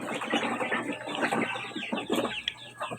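Pet chickens near a house, a flock of about 39 birds both small and large, cluck and chatter in quick overlapping calls close by.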